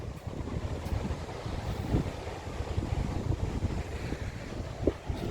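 Wind gusting through a garden on a grey, cold, damp day, a low rough rumble with buffeting bursts against the microphone, steady and fairly quiet throughout with no voices.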